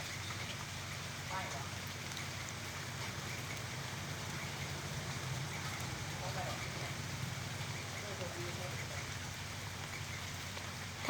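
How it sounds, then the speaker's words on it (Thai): Rain falls steadily outdoors, a dense even hiss that holds at a constant level for the whole stretch with no clear voices over it. "ตอนนี้ฝนตกนะคะ ตากฝนเลย"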